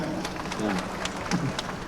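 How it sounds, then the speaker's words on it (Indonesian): Audience applause at an Indonesian presidential gathering: scattered, fairly faint clapping from a crowd with a low murmur of voices underneath, lasting about two seconds. "Nah, tepuk tangan."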